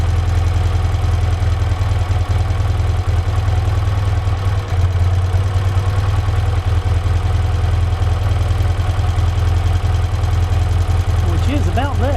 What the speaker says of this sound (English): And now the engine's starting to falter again.